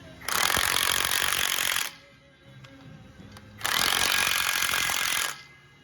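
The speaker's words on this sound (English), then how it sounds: "torque all of the bolt in stages until you finally reach the torque setting" Bolts on the mantle clamp of a Sandvik 880 crusher are torqued in two loud, harsh powered bursts of about a second and a half each, separated by a quieter mechanical lull.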